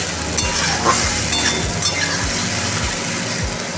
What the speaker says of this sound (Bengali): বেটে রাখা পেঁয়াজটা দিয়ে দিলাম এইবার এটাকে ভালো করে আমি কষিয়ে নেব